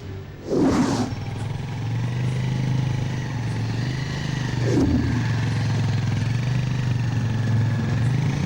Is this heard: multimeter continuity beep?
no